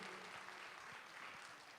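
An audience applauds in a full concert hall at a London music event, a faint, even wash of clapping with no voices over it.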